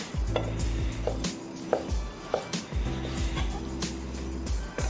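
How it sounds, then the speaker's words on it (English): A knife cuts and slices vegetables on a cutting board in a home kitchen, making a run of crisp, rhythmic strikes close by over a steady low hum. "I'm just gonna give these a cut one way and then kind of slice them the other way"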